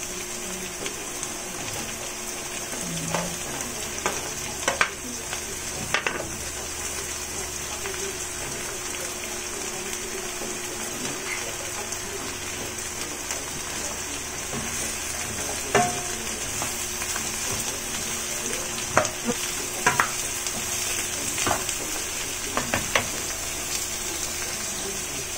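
Pork with chopped chayote and vegetables frying in a pan, a steady loud sizzle with scattered clinks and scrapes of stirring throughout, no talking.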